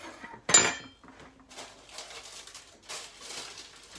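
A loaf of seed and nut no-knead dough drops into an ungreased Pyrex glass bread dish with one sharp clattering thud, followed by faint scraping and light handling sounds nearby.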